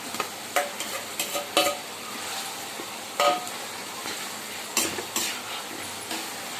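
Prawns sizzle in hot oil while a utensil scrapes and stirs against the pan in irregular clicks and taps, close up.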